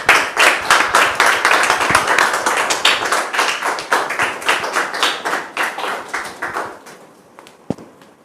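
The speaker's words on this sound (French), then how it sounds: "Sous vos applaudissements, s'il vous plaît." A small audience claps in rhythmic, distinct hand claps, close and loud, gradually thinning out and fading toward the end with a last stray clap.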